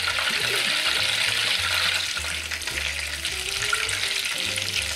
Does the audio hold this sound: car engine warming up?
no